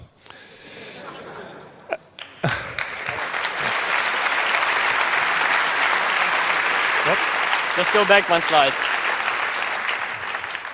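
Audience applause at the 25c3 hacker congress closing ceremony, a loud sustained clapping crowd that swells and continues for several seconds, with someone speaking briefly before it starts.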